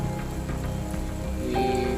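Heavy rain falls steadily across a bonsai garden, a dense continuous patter on leaves and surfaces, with a faint tonal hum rising in the last half second.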